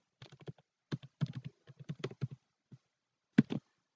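Someone types a password into HTML code on a computer keyboard: quick, close bursts of crisp keystrokes with short pauses between them and no talking.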